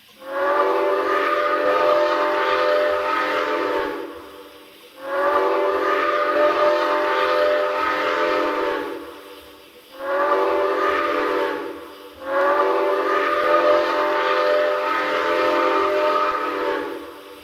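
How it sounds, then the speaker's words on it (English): A QJ steam locomotive's Grand Trunk Western six-chime whistle in Trainz sounds four long, rich blasts with brief pauses between them, loud and close. "we'll have a listen to the default whistle, which is Grand Trunk Western 6 Chime"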